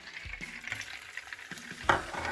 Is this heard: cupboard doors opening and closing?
no